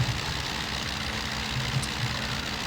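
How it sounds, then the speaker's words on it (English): A Fokker Dr.I triplane's engine runs steadily in Flight Simulator 2020, a continuous low rumbling drone with a faint buzzy edge, holding even and unbroken throughout with no voices. "then you will hear directly that the engine starts running"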